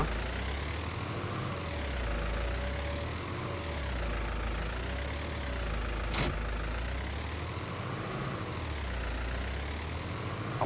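Large tractor engine idling in Farming Simulator 19, a low steady rumble with slowly pulsing throb and a faint whine on top, continuous and fairly quiet.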